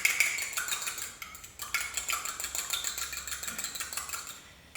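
An egg and melted butter are beaten together in a bowl for crumpet batter, a quick, rhythmic run of clinking utensil strokes against the bowl, close and fairly quiet, without talk.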